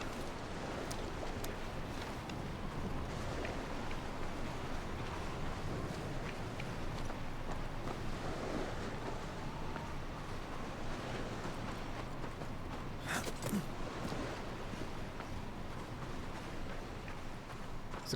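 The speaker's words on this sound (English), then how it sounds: "I like the ocean, so even just hearing the waves" Ocean waves wash steadily along a shore in the video game Banishers: Ghosts of New Eden, a constant broadband surf with gusty wind noise and a few faint clacking game sounds, no talking.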